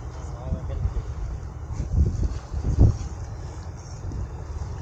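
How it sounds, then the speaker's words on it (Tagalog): Strong wind at Baseco on the Manila waterfront buffets the microphone with low, rumbling gusts that swell and peak midway, over a steady rushing background. "Ang hangin, lumakas na talaga hangin"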